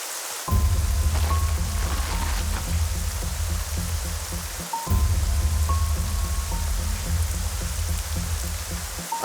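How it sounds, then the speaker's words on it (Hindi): Heavy rain pouring steadily, a dense continuous hiss and patter up close with a low rumbling undertone, briefly cut off once before resuming, no talk. "बारिश बहुत तेज हो रही है, संभल कर जाना।"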